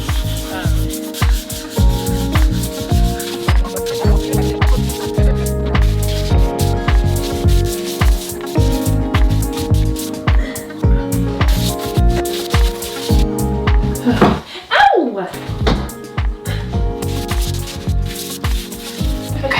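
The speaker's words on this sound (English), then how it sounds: "I'm going to go ahead and give it a light sanding by hand" Sandpaper, 220 grit, rubs back and forth over drywall compound by hand, a close, scratchy rasping in quick repeated strokes that continues steadily.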